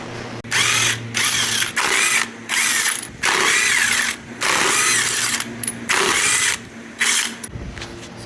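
A power tool, likely an impact gun, removes the wheel from a Lexus IS300 during a coilover install, firing about eight loud, close whirring bursts in a steady rhythm with short gaps between them.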